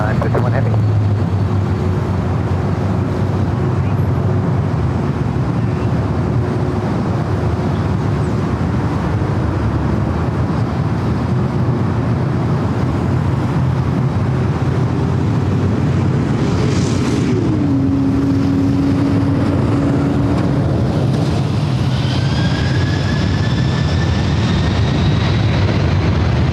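A Delta heavy jet rolls for takeoff on runway 24 left at LAX, a loud sustained engine roar with a steady drone that shifts pitch partway through, heard from nearby over wind noise.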